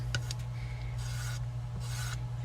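Squeegee dragged across a silk screen, pushing ink over the mesh in two short scraping strokes over a low steady hum, with no talking.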